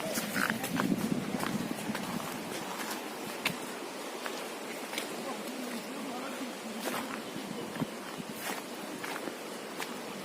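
Donkeys' hooves patter on the ground at an uneven pace as several walk past near flood water, with faint distant voices in the background.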